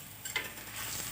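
Fish is added to a hot pan and cooks with a steady, close sizzle and light stirring. A brief clatter is heard near the start, and there is no talking.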